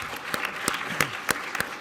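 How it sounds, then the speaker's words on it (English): Scattered applause rises from an audience at an evening event with Senator Blumenthal, individual claps standing out as sharp, uneven snaps over a soft background murmur rather than a full, dense ovation. "so give yourselves a round of applause."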